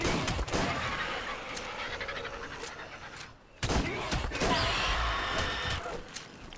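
Pistol fire in Ark Survival Ascended comes as sharp, loud cracks spread over several seconds, with a dense crackle of game noise around them, a brief lull about midway, and then more shots.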